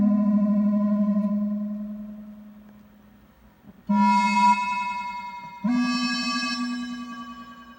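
Sustained guitar notes played through a pitch-tracked FM synth patch on an Empress ZOIA pedal ring out with a smeared, shimmering diffuser wash that lingers and blooms after each new note, loud and alone.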